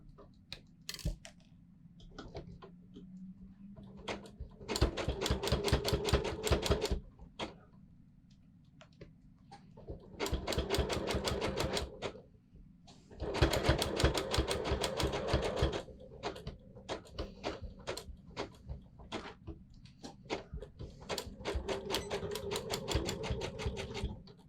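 A sewing machine stitches hooks onto a sports bra in several bursts of rapid, even needle clatter, separated by quiet pauses and a few isolated clicks, close up with no talk.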